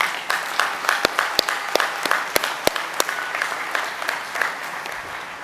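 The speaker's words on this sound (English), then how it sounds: "Please give them an audio-visual round of applause." A high school graduation audience applauds steadily, a dense wash of clapping with a few sharper nearby claps standing out, no voices over it.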